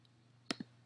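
Two quick computer mouse clicks in close succession, sharp and near, against a quiet room hum.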